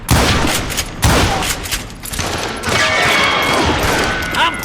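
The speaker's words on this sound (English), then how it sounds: "He shot Bill!" Rapid gunfire bursts from the Western shooter game Call of Juarez: Gunslinger, loud and dense, with repeated shots and echoing booms running through the whole passage amid game sound effects.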